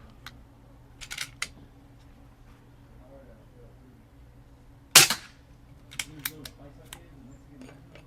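One suppressed shot from an Umarex Zelos .25 air rifle fitted with a moderator lands as a sharp, loud crack in the middle, with soft clicks and handling taps before and after it.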